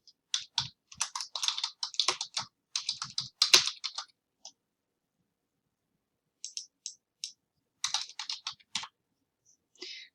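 Computer keyboard typing while entering a customer's new location and name, quick bursts of crisp key clicks separated by short pauses, close and clear with no talking.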